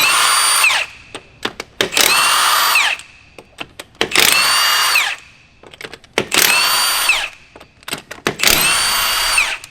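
A power impact tool spins lug nuts off a car wheel in four long whirring bursts, each separated by short clanks and knocks as the socket and nuts are handled, loud and close.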